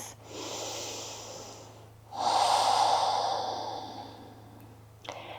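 Slow, deep breathing during a neck and shoulder stretching routine, with a long exhale followed by a fuller, louder breath, close to the mic over a faint steady hum.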